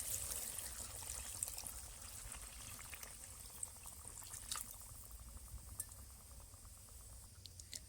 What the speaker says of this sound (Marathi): पाणी तुम्हाला जेवढा रस्सा पाहिजे तेवढं पाणी घालून घ्यायचं आहे.